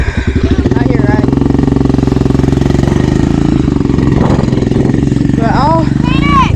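A motorcycle engine idles and churns steadily up close while riding through a pond, its loud, continuous mid-pitched drone running throughout, with people talking over it.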